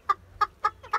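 Farm chickens in Rize, Turkey cluck in four quick, evenly spaced calls close by, short sharp clucks with quiet gaps and a low background hum.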